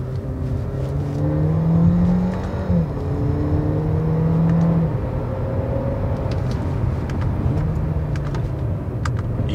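An Audi A4 1.4 TFSI from 2016 accelerates hard, its engine note climbing steadily and then dropping sharply as each quick gear change lands, with several rising sweeps in a row, close and steady, no talking.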